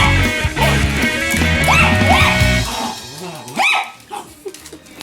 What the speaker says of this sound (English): so we're playing with the dog.